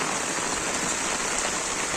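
Heavy rain pours down steadily and close by, a dense, even hiss of drops striking a surface with no voices over the full two seconds.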